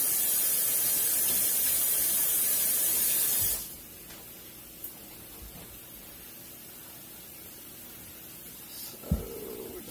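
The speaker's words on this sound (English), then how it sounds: "we want to wash and dry all the produce. So that would be the pepper and the onion" Tap water sprays steadily over a pepper and an onion being washed in a kitchen, a loud, even hiss that cuts off abruptly partway, leaving quiet room sound with a couple of small clicks.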